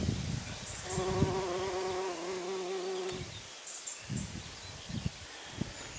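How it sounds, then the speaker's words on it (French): A bumblebee buzzes close by for a couple of seconds with a low, steady drone, then fades, leaving soft outdoor rustle and faint distant sounds of a summer field. "j'ai entendu un bourdon, je sais plus. Il y avait un bourdon là tout à l'heure."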